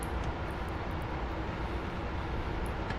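Jet engine roar from a Blue Angels airshow flight simulator, a steady dense broadband rumble, loud and continuous with no talking.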